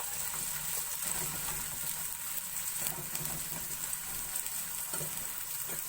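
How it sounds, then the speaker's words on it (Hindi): Sliced onions frying in hot cooking oil in a pan over low heat, a steady dense sizzle with soft crackles and occasional stirring scrapes, continuous and close throughout. "अब हल्की आंच पे प्याज को ब्राउन कर लेंगे।"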